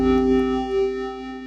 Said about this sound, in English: here we have a perfectly acceptable sounding reverb